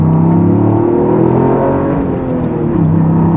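Toyota GR Yaris with a 1.6-litre three-cylinder turbo engine, 261 hp, running steadily and loud up close, a dense low drone with rising and falling tones and no talk over it.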